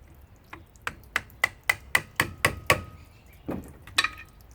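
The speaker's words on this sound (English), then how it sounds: "Hammer. We'll open it up." A hammer strikes a split plastic housing on a 220-volt power washer. About eight sharp, evenly spaced knocks come close together, then there is a short pause and two or three more hits follow.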